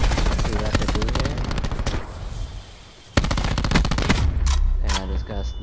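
Loud bursts of rapid gunfire from a first-person shooter match on the Slums map in Hardpoint mode, with a sharp single shot cracking out midway after a brief lull, then more sustained firing and faint talk.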